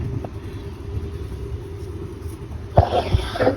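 A patient with a tracheostomy tube in a hospital coughs near the end, two harsh bursts rising over a low steady background rumble that runs through the whole stretch.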